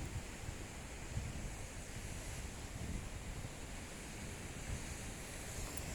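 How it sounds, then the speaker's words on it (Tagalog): Constant, even wind noise rushing across the microphone at Little Batanes in Bagbag, with a low buffeting rumble underneath and no voices. "Hangin."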